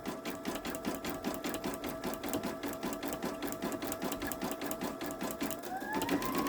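Babylock Esante embroidery machine stitching a sunflower design onto a towel with variegated thread, a steady, fast rhythmic clatter of the needle that runs continuously at close range, with a rising whine near the end.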